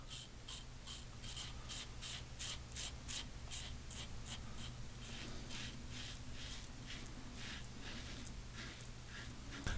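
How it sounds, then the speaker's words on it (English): A razor scrapes down a gel-covered sideburn in short, regular strokes, close up and soft, each pass a brief rasping rustle repeated steadily. "Cut that sideburn."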